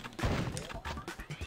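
Quick gunshots from the Die Hard Trilogy 2 video game land in a choppy cluster of sharp thuds and bangs, fairly quiet, with a voice talking among them.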